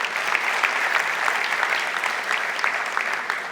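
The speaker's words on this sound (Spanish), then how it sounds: "dale un aplauso al Señor si deseas" Congregation applauding in a church, a steady dense wash of many hands clapping at close range for the whole stretch, with no voices standing out.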